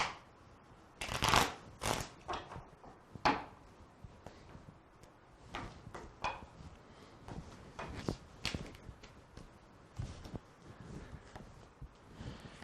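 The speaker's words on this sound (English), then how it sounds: "And then I go through the process of shuffling and cutting the cards." Tarot cards are shuffled and cut by hand in irregular bursts of crisp riffling and soft slaps, close and fairly quiet, with short pauses between the shuffles.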